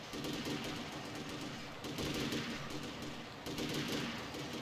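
Rapid bursts of gunfire crackle as NPCs shoot each other in the video game Hitman: Contracts, repeating in several volleys with a dense rattle, fairly faint in the mix.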